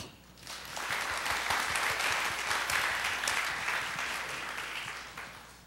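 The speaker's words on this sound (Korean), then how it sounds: "여러분의 큰 박수로 시작하겠습니다" Sustained audience applause fills a forum hall at the opening of a 2012 technology and humanities convergence session, dense clapping swelling quickly, holding steady and tapering slightly toward the end.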